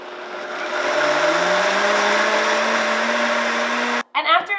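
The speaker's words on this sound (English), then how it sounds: "You want to really let the blender run so all of that almond gets broken down" Countertop blender pulverizing almonds with water to make almond milk, a loud steady motor whine rising slightly in pitch for about four seconds before cutting off, followed by a brief voice.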